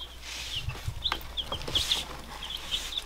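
Newly hatched chicks from incubated chicken eggs peeping, giving several high, short chirps scattered over a few seconds, close and clear above a low background hum.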